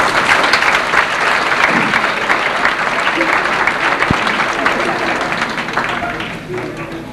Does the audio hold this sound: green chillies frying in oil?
no